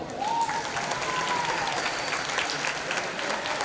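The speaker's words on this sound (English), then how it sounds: "let's give another round of applause to our archery seniors" A basketball game crowd in a school gym applauds in a steady, dense wash of clapping that holds at an even level throughout.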